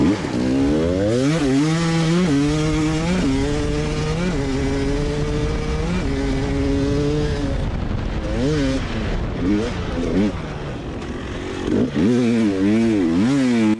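Hard enduro dirt bikes fire up from a dead engine start on ramps and climb a hill, several engines revving hard and close together, rising and falling in pitch, with loud overlapping blasts and a voice speaking over them.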